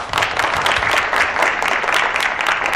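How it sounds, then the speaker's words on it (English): Participants give themselves a loud, dense round of applause after a morning session, many hands clapping together close by in a sustained burst without pause. "I think you all owe yourselves a round of applause"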